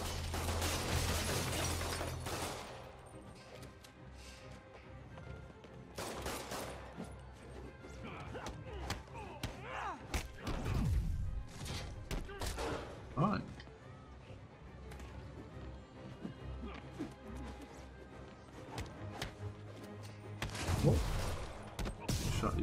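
Bursts of gunfire from thugs in the Spider-Man PS4 video game crack out sporadically, mixed with crashes and mechanical clatter, with shouting voices in between.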